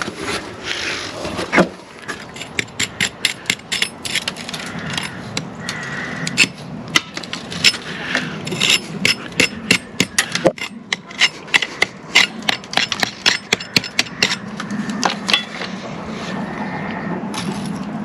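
Repeated sharp strikes of a pick chipping out a sand lime concrete lintel, a fast irregular series of hard, close knocks and scraping bursts, with short pauses between runs of blows.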